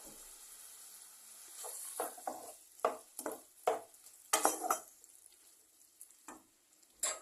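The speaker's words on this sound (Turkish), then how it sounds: "Şimdi salçamı ilave ediyorum." Tomato paste being stirred into a pan of meat stew with pearl onions, a gentle sizzle beneath a series of close, irregular scraping and stirring strokes.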